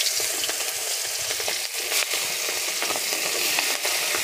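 Prawns frying in hot oil for a prawn malai curry, a dense continuous crackling sizzle heard up close, with occasional sharper pops and stirring scrapes and no talking.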